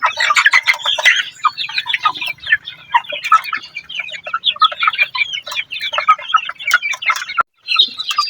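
Chickens cluck and chirp continuously from a crossbred rooster and a flock of 40-day-old chicks, busy layered calls close by with no talking.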